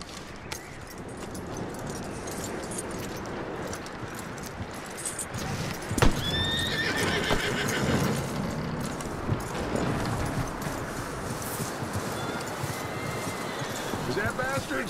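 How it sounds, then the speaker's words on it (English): A horse in the video game Red Dead Redemption 2 whinnies loudly partway through, amid steady clip-clop of hooves and ambient outdoor noise, with a voice talking over it. "That looks like a decent horse."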